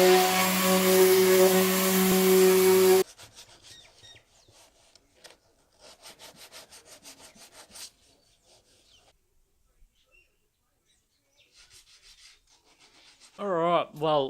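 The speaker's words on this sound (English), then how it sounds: "I end up rubbing back the bog, putting in the light fill, rubbing that down too." Hand sanding of body filler (bog) on a custom car front bumper bar gives rhythmic rubbing strokes in bursts with pauses, close and moderately quiet. A loud steady noise comes before it and a brief voice follows.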